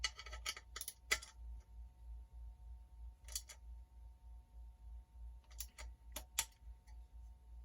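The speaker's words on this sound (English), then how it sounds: "just to make sure that I've torqued them all, I click" Sharp clicks of a torque wrench tightening crankset bolts on a bicycle, coming in small separated groups of quick ticks against a quiet background hum.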